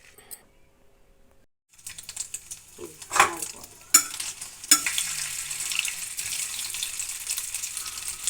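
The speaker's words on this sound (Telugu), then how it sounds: "పన్నీరు ముక్కలు లైట్గా కొద్దిగా గోల్డెన్ కలర్ వచ్చేదాకా వేయించుకోవాలి" Paneer pieces frying lightly to golden in a pan give off soft, close sizzling and crackling that starts after a quiet moment, with a few clicks and taps of stirring mixed in.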